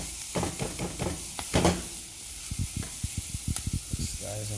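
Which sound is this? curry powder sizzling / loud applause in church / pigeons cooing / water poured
curry powder sizzling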